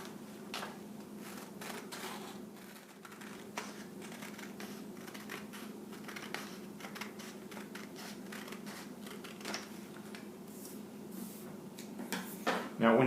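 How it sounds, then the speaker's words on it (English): Scissors snip through a paper template for a cheap homemade tablet case, a steady run of close, crisp cuts and paper rustles over a low room hum, ending in a louder handling noise. "take your scissors and cut it"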